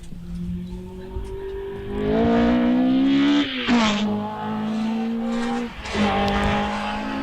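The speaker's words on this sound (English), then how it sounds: "What can Richard Price do in his Caterham 7" Caterham 7 race car at a British hillclimb, its engine revving hard and rising in pitch through gear changes, with brief dips between shifts and tyre noise as it passes close by.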